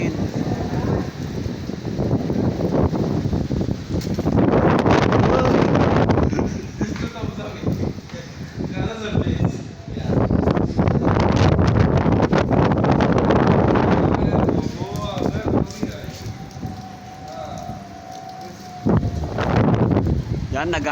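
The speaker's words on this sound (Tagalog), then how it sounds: "Lakas po ng hangin." Strong storm wind in Abu Dhabi, cold and gusty, roaring in heavy surges of buffeting noise against the microphone, loud and close, easing briefly between gusts, with people talking at moments.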